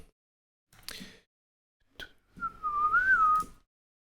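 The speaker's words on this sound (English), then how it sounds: "I'm starting whistling now." A single person whistles a short wavering tune after a couple of soft breathy noises, close and clear in a quiet room.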